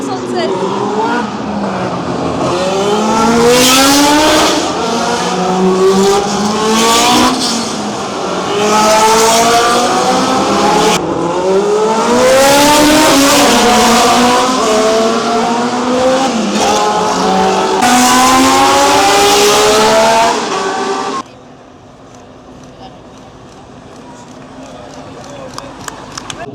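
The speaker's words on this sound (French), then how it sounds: "Là, on est sur les F1 de 73 à 76." Loud 1973–1976 Formula 1 cars scream past one after another at the Monaco Historic Grand Prix, engines rising and falling in pitch as they rev and shift, before fading to a quieter background.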